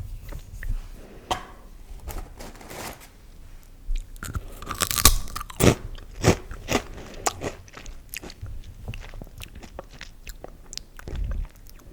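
Crunchy spicy convenience-store snacks bitten and chewed up close in a whisper-style setting, with repeated sharp crackling crunches in irregular bursts, then quieter chewing between bites.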